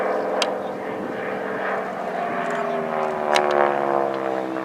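A North American Harvard (SNJ) propeller trainer flies over at an air festival, its engine a loud, steady drone with a rising and falling pitch that sounds close by. Crowd noise sits faintly underneath.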